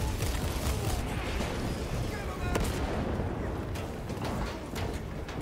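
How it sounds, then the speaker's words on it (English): Rapid gunfire in Warhammer 40,000: Space Marine 2, a dense, continuous battle din of shots and mechanical clatter with sharp cracks cutting through, with a voice talking over it. "I'm just shooting at him then."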